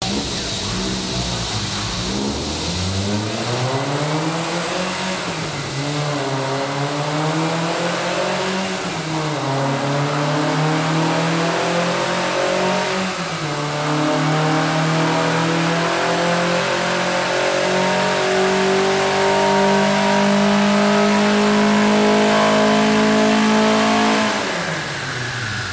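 A tuned VW Golf MK1 GTI engine revs hard on a dyno, climbing steadily in pitch through long pulls, easing off and winding up again to a loud peak before cutting back near the end.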